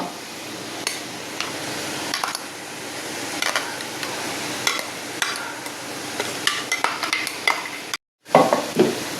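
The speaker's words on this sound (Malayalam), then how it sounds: "ചതച്ച് വെച്ച തേങ്ങ ഇട്ട് കൊടുത്തിട്ടുണ്ട്. ഇനി നന്നായി മിക്സ് ചെയ്തെടുക്കുക." Spinach thoran being stirred in a pan after crushed coconut goes in, a steady soft scraping and sizzling with scattered light clinks of a utensil against the pan, ending in a brief silence and a few louder knocks.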